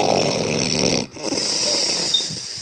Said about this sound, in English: Listen to her snoring.